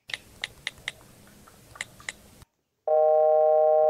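A steady telephone call tone begins after a short silence, loud and continuous, following a stretch of faint clicking and tapping.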